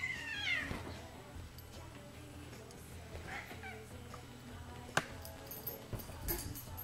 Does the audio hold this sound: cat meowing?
yes